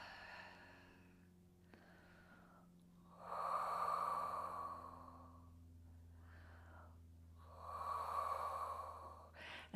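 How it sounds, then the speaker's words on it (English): Slow, deep breaths during a resistance band Pilates stretch, two long audible exhales about four seconds apart, close and fairly soft, with quieter inhales between. "Now let's take 3 deep breaths here."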